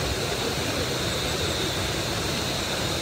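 A waterfall pours in a loud, dense, unbroken roar that fills the air up close, steady from start to finish with no voices.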